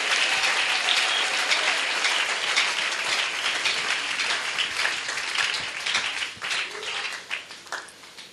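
A church congregation applauds and cheers during a French-language evangelical sermon, sustained dense clapping that stays loud for several seconds and then thins out and tapers toward the end.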